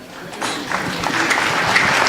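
Applause from the assembly at the AMECEA plenary for the standing Ethiopian delegates, a sustained crowd of clapping hands that swells early and keeps going steadily throughout.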